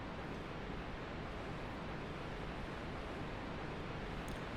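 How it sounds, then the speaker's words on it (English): Steady broadband rushing of a waterfall and flowing water fills a video game level in an underground setting, continuous and even in level, with no voices. "You can hear the sound of a waterfall and rushing water."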